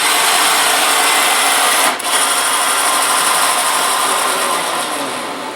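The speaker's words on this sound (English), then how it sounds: "this is a Speedycut ST-2V2 4-head vertical drilling machine brought to you by Lanco." Speedycut ST-2V2 four-head vertical drilling machine running with a loud, steady mechanical whir, a brief dip near two seconds, then continuing evenly and fading slightly toward the end, no voices.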